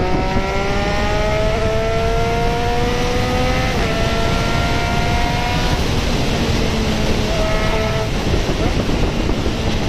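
A 2020 Triumph Street Triple RS 765, a three-cylinder naked motorcycle, pulls hard while being ridden. Its engine note climbs steadily, drops at a gear change and rises again, loud and continuous over steady wind rush.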